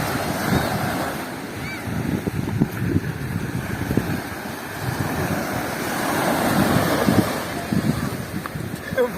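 Sea waves break on a beach in a steady, rolling roar. Gusty wind buffets the microphone, and voices can be heard faintly now and then beneath the surf.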